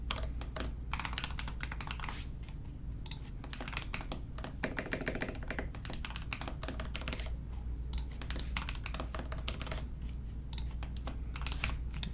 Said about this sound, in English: and type in my email.